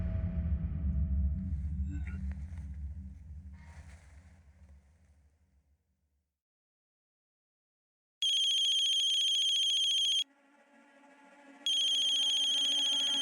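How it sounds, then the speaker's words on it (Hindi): A phone rings with an incoming call from an unknown number, loud electronic ringtone bursts that sound twice with a short gap. A low rumble fades out just before the ringing starts. "अननोन नंबर से फोन है सर।"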